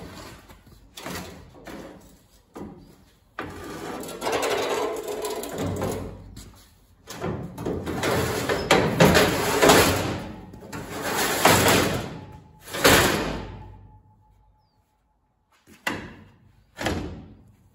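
Metal loading ramps stowed on a Woodford car transporter trailer give a series of loud clanks, thuds and sliding scrapes in irregular bursts, with brief quiet gaps between them.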